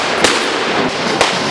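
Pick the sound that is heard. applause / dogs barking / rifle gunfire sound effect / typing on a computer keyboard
rifle gunfire sound effect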